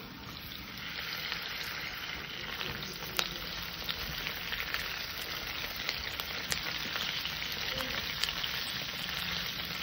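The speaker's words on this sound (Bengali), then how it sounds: "মটনটাকে আমি পেঁয়াজ দিয়ে 7 থেকে 8 মিনিট এইভাবে কষে নেব।" Mutton and chopped onion fry steadily in a pan, a dense continuous sizzle with faint crackles and occasional stirring ticks, close and even throughout with no talking.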